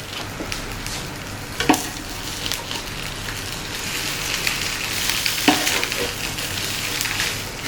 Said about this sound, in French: ma brioche dans la poêle chaude